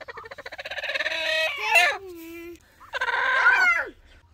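Poultry at a dairy farm where ducks and hens are kept; a rooster crows twice, loud and close, with a short gap between the calls.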